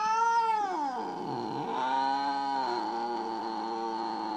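A cat meows in long, drawn-out wails, its pitch sweeping down and then rising into a sustained, whining caterwaul, close and clear with no talking.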